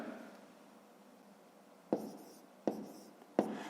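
Handwriting on paper while working out fifth-grade math division, with soft continuous pen scratching followed by three sharp taps spaced evenly near the end, close and quiet, no talking.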